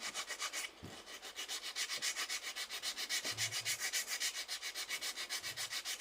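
A file rasps back and forth over sculpted acrygel stiletto nails in rapid, even strokes, a close, soft scratching rhythm with brief pauses and no talking.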